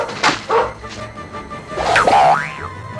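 A cartoon dog in a Christmas special gives a few short yips and a whimpering, wavering bark-like cry, close and clear over quiet background.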